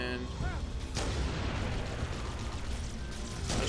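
Halo CE grenade blast, a sharp boom about a second in with rumbling tail, amid ongoing battle gunfire and another burst near the end; a person talks over it.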